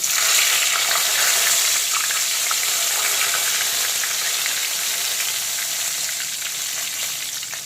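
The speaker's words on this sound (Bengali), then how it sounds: "এখন এই মাছ ভাজা তেলেই দিয়ে দিচ্ছি কালো জিরে আর তেজপাতা ফোড়ন।" Nigella seeds and bay leaf sizzle loudly in hot oil left over from frying pieces of rohu fish, a steady dense crackle that carries on throughout and eases slightly toward the end, with no talking.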